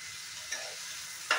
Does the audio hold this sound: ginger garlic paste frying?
yes